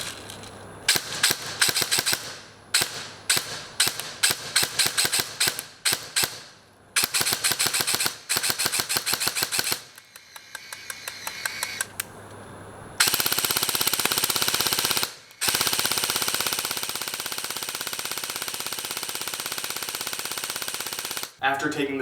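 An airsoft light machine gun with a box magazine fires BBs close by, first in rapid short bursts with brief gaps, then in long sustained streams of fire, loud and sharp throughout.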